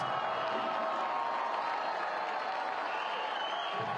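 A stadium crowd at a Nashville SC vs FC Dallas US Open Cup soccer match applauds a substituted player with a steady, distant wash of clapping and cheering that continues without a break.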